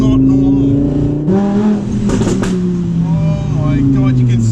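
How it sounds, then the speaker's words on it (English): An Audi R8 V10 RWS fitted with a Quicksilver exhaust and titanium center muffler gives a loud, close V10 drone that rises and falls as the revs change, broken by a sharp burst of crackle midway. "It's a Quicksilver exhaust, titanium center muffler, and this thing is just beyond ludicrous."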